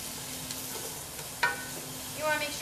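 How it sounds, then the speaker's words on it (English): Sausage and onions sizzling in olive oil in a pan while being stirred, a soft steady fry with a couple of sharper scraping stirs partway through. "We're sweating the onions, so this is where the dish gets the base of flavor."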